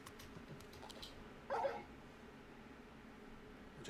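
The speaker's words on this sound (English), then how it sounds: "You're just a big puppy, aren't you? A very big puppy." Torgal, the large dog companion in the video game Final Fantasy 16, gives a single short whimper. It is fairly faint and sits over quiet in-game ambience.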